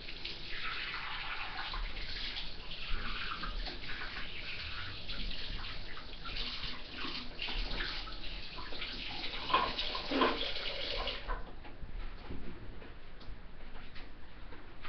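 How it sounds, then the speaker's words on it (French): Tap water runs steadily while something is rinsed clean during a morning skincare and makeup routine, a continuous close hiss and splash with small clinks near the end. "nettoyer avec de l'eau du robinet"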